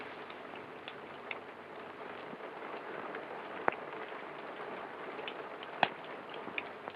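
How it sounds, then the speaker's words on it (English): Steady rain falls in a quiet interior, a soft continuous patter with a couple of sharper drips standing out, faint and even throughout. "It's only the rain."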